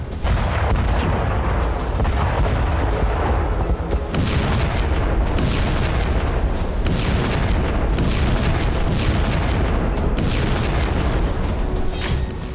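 Dense, continuous rumbling booms and crackling blasts from a missile strike by Russian forces in Sumi during the Russia-Ukraine war, loud and sustained throughout with sharper bursts near the end.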